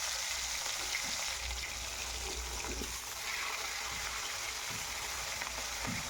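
Snakehead fish pieces coated in salt and turmeric fry in hot mustard oil, a steady, faint hiss and crackle of sizzling that continues evenly throughout.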